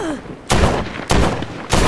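Gunshots in The Walking Dead: Saints & Sinners, three sharp, loud shots spaced about half a second apart, each with a brief echoing tail, following a short quiet stretch.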